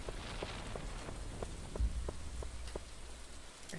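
Steady rain in the farming video game Stardew Valley during summer, a continuous soft patter with regular light drop ticks, moderately loud and alone.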